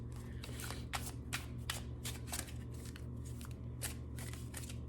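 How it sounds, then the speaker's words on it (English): Tarot cards are shuffled by hand in a quick, irregular run of crisp riffling bursts, close and fairly quiet over a low steady hum, with no talking. "Usually I like to do this like kind of chaos mode shuffling, where I just shuffle until something comes out"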